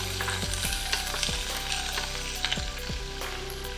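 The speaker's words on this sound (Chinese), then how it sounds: "白蟹菇放下去炒，" White crab mushrooms stir-fried in a wok with garlic and baby corn: a steady close sizzle broken by regular scraping strokes of a spatula against the metal, with no talking.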